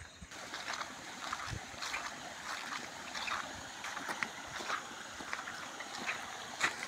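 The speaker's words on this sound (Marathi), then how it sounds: "एकच आवाज आहे जो ही शांतता भंग करतोय, आणि तो म्हणजे ह्या पाण्याचा आवाज" Gently flowing water near a village temple in quiet surroundings, a soft continuous wash with small splashes and ripples, faint and steady with no voices.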